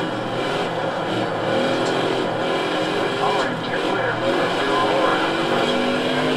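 NASCAR race cars on the final lap of a video game race, with a dense, steady engine roar at high volume throughout and a voice talking over it.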